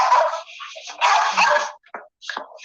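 A dog barks and whimpers at something outside, loud and close, with a run of yelping barks followed by shorter whiny yips and pauses.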